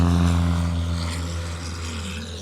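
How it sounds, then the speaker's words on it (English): Radio-controlled Super Cub model airplane taking off at an RC expo; a loud, steady buzzing engine drone close by, pitch shifting slightly as it moves, with no talk. "Oh, there goes the Super Cub."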